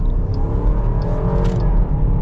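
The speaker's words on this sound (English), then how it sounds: "I am so excited to finally drive the Grand Cherokee L with the Hemi." A 2021 Jeep Grand Cherokee L Overland with the 5.7 Hemi V8 accelerating, a steady, loud engine drone with road roar heard from inside the cabin and no talking.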